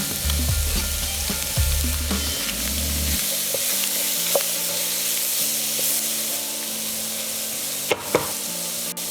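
Red onion, peppers and garlic fry in a pan for one-pan peri peri chicken rice, sizzling loudly and steadily while a utensil stirs through them, with a couple of sharp scrapes and knocks near the end.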